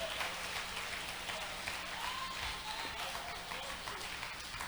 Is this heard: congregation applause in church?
yes